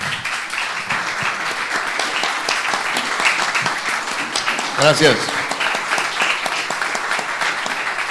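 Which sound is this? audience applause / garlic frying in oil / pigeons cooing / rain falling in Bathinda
audience applause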